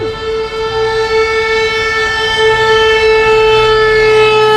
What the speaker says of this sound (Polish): ja już dawno nie słyszałem w ogóle takiej syreny